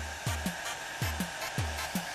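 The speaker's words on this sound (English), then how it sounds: "there's a column of air that comes out of the hairdryer" A steady hair dryer whoosh runs throughout, broken by repeated short thumps and knocks at a quick, uneven rhythm, all fairly close.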